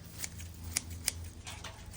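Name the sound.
scissors trimming plants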